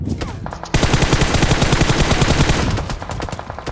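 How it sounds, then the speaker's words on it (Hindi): Loud, rapid bursts of automatic gunfire ring out in Battlegrounds Mobile India, a dense string of shots crackling continuously for several seconds close at hand. "हम देखते सामने वाले कंपाउंड से फायरिंग आ रही थी"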